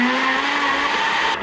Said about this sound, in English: Turn on the blender before you put in the frozen mixed fruit.